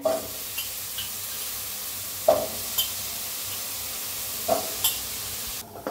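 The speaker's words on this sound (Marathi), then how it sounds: "पहिलं काय करूया आपण बटाटो भाजून घेऊया" Potatoes roast in a hot, dry kadai, making a steady faint hiss broken by a few sharp scrapes and knocks as they are turned.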